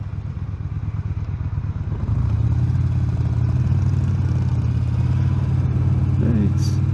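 A Yamaha XVS 950 Bolt cruiser motorcycle's engine drones low and steady while riding, growing louder after a couple of seconds into a sustained rumble with some clatter, close to the microphone.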